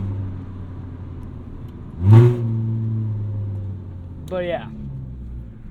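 A $500 beater car's exhaust, its catalytic converters gutted, gives a low, steady rumble throughout, with a brief louder rev near the middle, while someone speaks over it.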